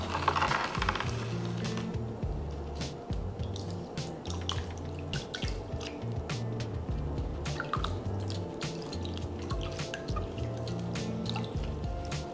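Water dripping and trickling into freshly repotted soil mixed with slow-release fertilizer, a steady run of soft drips and wet squishing close by with no one talking.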